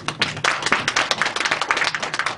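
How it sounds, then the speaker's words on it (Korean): Audience clapping at a 2020 New Year concert's opening ceremony: dense, steady applause with sharp individual claps throughout, fairly close and lively, with no talking. "다시 한번 축사를 큰 박수로 청해 주시기 바랍니다"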